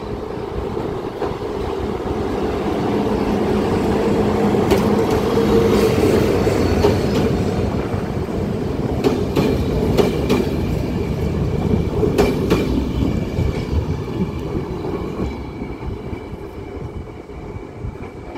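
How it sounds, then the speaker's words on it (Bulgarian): A diesel locomotive rumbles as a passenger train pulls away from Varna station, its engine drone building then fading, with wheels clicking and faint metallic squeals along the rails. "ето го дизеловия локомотив. Шуменския влак замина и той."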